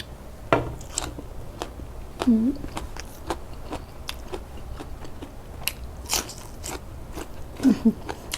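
Crispy pork is bitten and chewed up close with sharp, irregular crunches and crackles spread through the clip, while a voice is briefly heard now and then.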